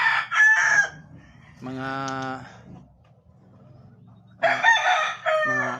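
Hennie-line gamefowl roosters on a small backyard farm crow loudly and close by, with two or three drawn-out calls separated by short pauses and a brief word spoken near the start.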